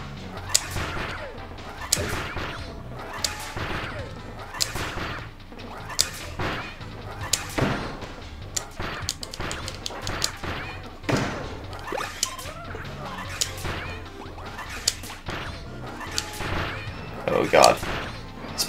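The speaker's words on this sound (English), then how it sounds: "I'm just gonna keep shooting the Kirbys like this." Video game gunfire while shooting Kirbys in Kirby: Triple Deluxe, with sharp repeated shots and thuds at irregular intervals, some bursts close together, over a busy background of game sound.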